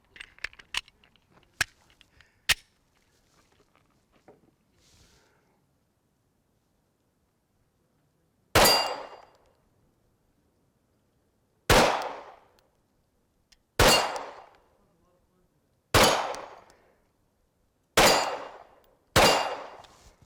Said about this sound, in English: Those are the first 6 shots I fired out of this.